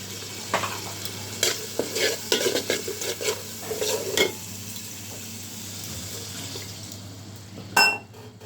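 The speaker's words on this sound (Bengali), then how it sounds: "অল্প একটু জল দিলাম মশলাটা কষানোর জন্য" Spice paste with garlic paste, green chilli and a splash of water being stirred and fried in a pan for biryani: scraping stirs and bursts of sizzling for about four seconds, then a quieter simmer with a sharp clink near the end.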